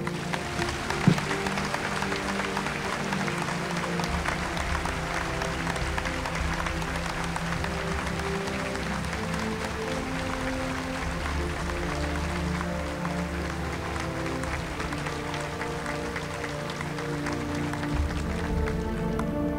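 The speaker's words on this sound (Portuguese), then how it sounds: "Peço que dediquemos a eles uma efusiva salva de palmas." Sustained applause fills a hall at a Masonic public ceremony, a dense, steady wash of many hands clapping for about twenty seconds with crowd murmur and shuffling beneath it.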